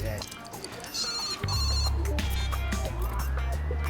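A telephone rings in a TV drama scene, its bell-like tone repeating briefly amid background noise and low music-like hum.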